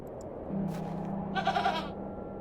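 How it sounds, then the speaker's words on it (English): A goat in the video game Hob's Barrow gives a short, close bleat, preceded by a low sustained tone in a quiet scene. "It's a goat."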